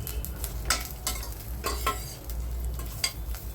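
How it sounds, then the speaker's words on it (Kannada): Bitter gourd with curry leaves and dry chillies fries in oil in a pan, giving a steady sizzle broken by repeated scraping stir strokes, close and fairly loud with no talking. "ಈಗ ಪ್ಯಾನ್ಗೆ ಆಯಿಲ್ ಹಾಕಿ ಕರಿಬೇವು ಹಾಕಿ ಒಣಮೆಣಸಿನ್ಕಾಯಿ ಹಾಕಿ ಹಾಗಲಕಾಯಿ ಹಾಕಿ ಚೆನ್ನಾಗಿ ಫ್ರೈ ಮಾಡ್ಕೋಬೇಕು."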